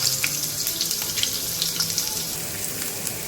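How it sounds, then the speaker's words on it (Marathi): Chopped onion frying in hot oil in a pan, a steady close crackling sizzle with scattered pops and spits that runs throughout, with no voices over it. "हांवें जो ऑनियन आमचो कट केल्लेलो तो हितूर घातलेलो आसा आनी हेका मातशें न्हू अशें फ्राय करप"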